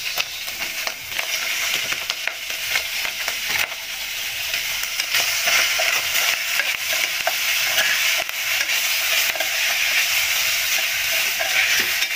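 Tomatoes sautéing in a pan for monggo with ampalaya leaves, a dense continuous sizzle with frequent small clicks and scrapes of stirring, close and steady throughout.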